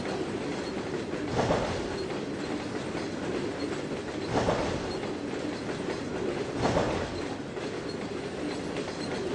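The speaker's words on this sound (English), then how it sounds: "This is a long train." A long freight train of cement and potash hoppers rolls past in a Trainz 2022 railroad simulation, with a steady, loud rumble of wheels and rhythmic clickety-clack bursts repeating every few seconds as the cars cross rail joints.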